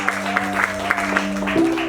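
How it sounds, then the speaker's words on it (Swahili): A church congregation claps in rhythmic bursts for the lead pastor, over sustained music and some voices. The clapping is moderately loud and fairly close. "Jamani mpigie mchungaji kiongozi makofi kwa Bwana."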